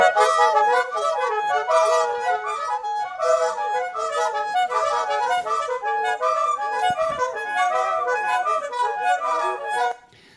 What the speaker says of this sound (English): so these are the different flutes.